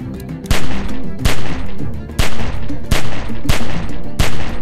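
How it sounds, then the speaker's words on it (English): Sustained gunfire in The Walking Dead Telltale video game: loud, closely spaced shots in a steady rapid rhythm, about one every half second, going on with no talk over it. "Remember, don't stop shooting."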